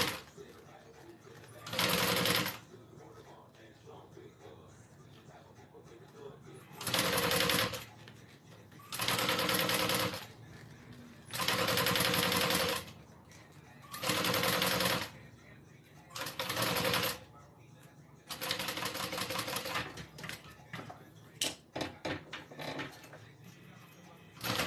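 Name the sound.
sewing machine sewing a wallet closed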